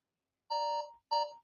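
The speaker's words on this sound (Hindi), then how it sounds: "ये भाई आपका टाइमर शुरू हो गया है" A quiz countdown timer gives two clear electronic beeps, each a steady tone, the first longer than the second, separated by a short gap in otherwise silent surroundings.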